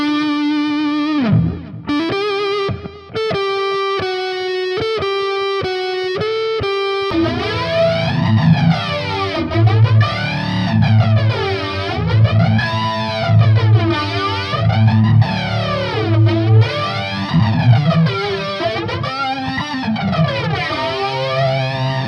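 Overdriven electric guitar played through a Tube Screamer pedal into an EVH 5150iii EL34 amp on its blue channel, opening with a few picked notes and then a sustained, sweeping lead line with a thick, saturated, singing tone, loud and steady throughout.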